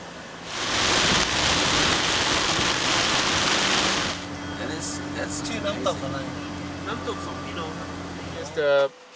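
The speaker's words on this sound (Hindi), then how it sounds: "और बारिश हो रही है अब।" Rain falls steadily in Chiang Mai, Thailand, a loud broad wash for about four seconds, then it drops to a softer patter with a steady hum and brief voices in the background.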